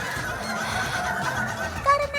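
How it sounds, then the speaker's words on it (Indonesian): Ayam ketawa laughing chickens at a crowing contest, giving long, warbling crows with an undulating, laugh-like intonation over a busy background of other birds and crowd noise, with a louder call near the end. "Sobat Otan ini bukan lagi ketawain kalian, tapi ini kontes ayam ketawa."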